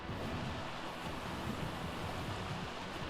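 Waterfall in the video game ARK: Crystal Isles, a constant rushing wash of falling water, fairly quiet and unbroken, with no voices over it.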